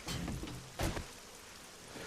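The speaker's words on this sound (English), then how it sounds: "And of course, it's raining." Steady rain in the survival video game 7 Days to Die, a continuous hiss of falling drops filling the clip at moderate level, with a brief louder gust or splash near the middle.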